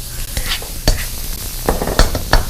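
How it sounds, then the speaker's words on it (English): Vegetables sizzle in a hot pan while being stir fried, with a constant crackling fry and a series of sharp scraping stirs and clatters from a utensil, close and loud. "the way you start with the stir frying is you start off with the ingredient that takes the longest to cook"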